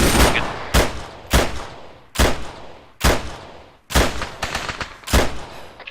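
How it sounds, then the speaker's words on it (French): Repeated gunfire in the military shooter game Arma 3, a series of loud sharp bursts spaced irregularly over several seconds, with no talk in between. "autorisation d'ouvrir le feu là, on ouvre"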